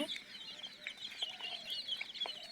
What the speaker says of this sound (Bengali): এখানে আমাদের কিছু দেশি মুরগি বাচ্চা আছে